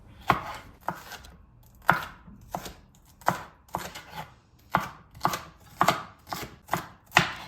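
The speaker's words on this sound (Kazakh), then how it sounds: "Қызыл және жасыл бұрышты 1 келкі жолақтарға турап аламыз." Red and green bell peppers are sliced into strips on a board for stir-fried tsomyan noodles: about a dozen crisp, close knife strikes in an uneven rhythm, with no talking.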